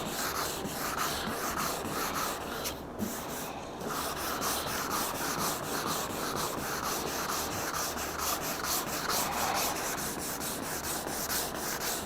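Polyester primer on a car body is sanded with 180-grit paper on a soft pad, giving a continuous, close, loud abrasive rasp with only a brief dip partway through.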